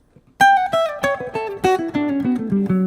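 A plucked guitar plays a quick syncopated samba-style phrase, leaving a short gap before each group of notes, clear and close with no voices.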